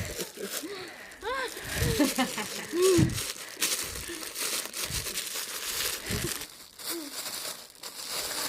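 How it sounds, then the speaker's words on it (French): Gift wrapping paper being unwrapped, crinkling and tearing in irregular bursts close by for several seconds, with voices talking over it. "Petit papier cadeau, tu sais."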